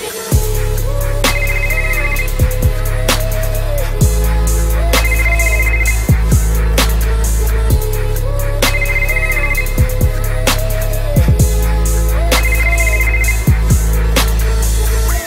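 A phone ringtone sits within a hip-hop track, a repeating electronic ring pattern that recurs in regular cycles over heavy bass and beats, loud and prominent throughout.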